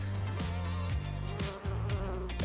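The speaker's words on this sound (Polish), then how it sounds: "Pszczoła." A honey bee buzzes continuously up close, its droning pitch rising and falling as it moves about.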